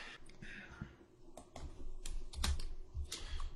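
Typing on a computer keyboard while editing HTML and CSS code, a steady run of quick, irregular keystrokes at close range with a few heavier taps, no voice over it.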